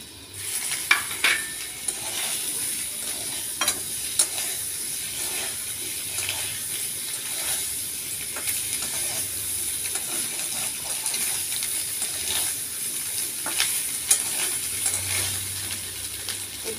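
Asafoetida and ginger paste fry in a pan for potato dum, a steady soft sizzle with occasional scrapes and clicks of stirring, fairly close and continuous throughout.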